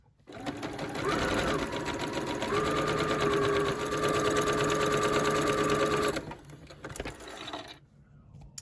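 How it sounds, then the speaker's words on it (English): A sewing machine runs steadily for about five seconds while sewing the shoulder seams of a coat, a close, even mechanical whir with a rising motor tone, then stops with a few clicks and handling noises. "So first we'll sew the shoulder seams, then we'll add the sleeve"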